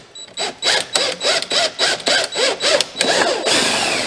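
Power drill driving a self-tapping screw during a Kawasaki KRX 1000 upper door install, a loud close whir pulsing in short bursts, then a steadier final run as the screw seats, no talk.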